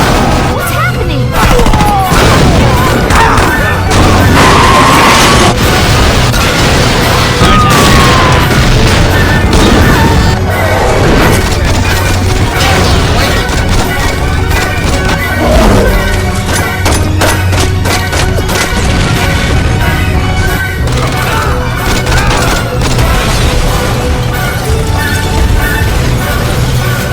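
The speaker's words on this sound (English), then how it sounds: "That was a hell of an explosion." Explosions and heavy gunfire from Saints Row fill the scene, with loud, dense booms and bursts of shooting that carry on continuously throughout, while voices talk over the action.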